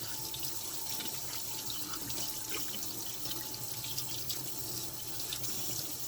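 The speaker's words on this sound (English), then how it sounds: "washing in between my hands for 15 seconds" A tap runs steadily into a sink as hands are washed in the stream, a continuous close splashing hiss lasting throughout with no talking.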